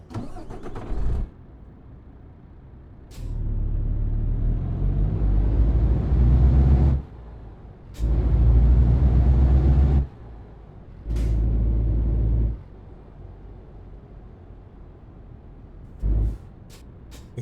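A MAN TGS truck diesel engine rumbles loudly through repeated bursts of revving and settling, with sharp pneumatic air-brake hisses breaking in between, heard up close and with no voices.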